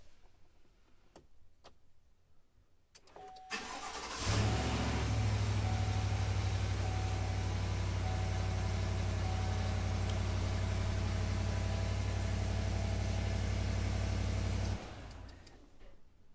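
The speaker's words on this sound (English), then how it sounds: "now we should be able to start the vehicle as normal" A GMC Sierra pickup truck engine cranks and catches after a few seconds of quiet, then settles into a loud, steady idle for about ten seconds before cutting off abruptly.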